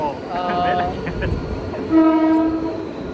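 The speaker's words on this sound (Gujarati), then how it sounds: "બીજી ટ્રેન પણ આવી ગઈ છે" A train pulls in with a rumbling rail bed, and two sustained horn blasts sound, one early and a louder one near the end, while people talk faintly in the background.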